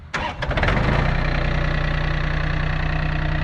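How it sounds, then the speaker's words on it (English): A small tractor engine cranks briefly and catches, then settles into a steady, loud, close idle with a low rumbling throb; no one speaks. "this thing's got a hot little battery and sounds good. We'll see if it'll fire up"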